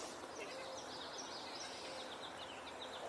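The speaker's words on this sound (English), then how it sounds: "Swamp sparrow." A swamp sparrow sings faint, quick repeated trilled notes in the distance over a steady outdoor hiss, with no voices.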